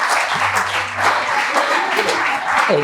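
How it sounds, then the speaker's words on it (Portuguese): Audience applause for a woman during a Portuguese-language talk on juvenile delinquency, a steady dense wash of clapping across the whole stretch with a faint low hum underneath. "uma salva de palmas para ela"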